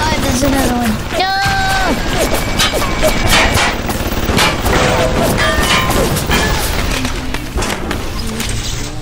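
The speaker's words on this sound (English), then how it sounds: "Who's shooting?" Rapid gunfire from BioShock in the underwater city of Rapture, loud bursts of automatic and single shots with crashes, dense and continuous under excited talk.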